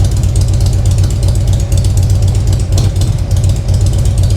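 A 2008 Harley-Davidson Street Glide with a ThunderMax fuel system idles loudly and close, a steady throbbing V-twin beat with a rich-running rear cylinder and a suspected intake leak.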